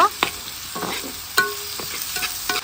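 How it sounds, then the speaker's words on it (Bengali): A spice paste fries in hot oil with a steady sizzle, broken by scraping stirs and brief clatters of a utensil against the pan. "এখন পেস্ট আমি হালকা করে ভেজে নিব"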